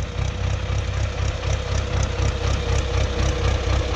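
Ursus C-360 tractor engine idling and puttering steadily up close, a continuous low rhythmic chug with light knocking, alone without voices.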